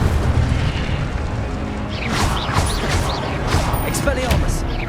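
Incendio fire spell cast repeatedly in the Hogwarts Legacy video game, a run of whooshing, crackling fiery bursts in quick succession over a steady rumbling game background, with voices calling out spells.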